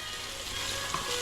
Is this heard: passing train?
no